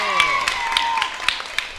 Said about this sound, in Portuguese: Palmas para a equipe vermelha!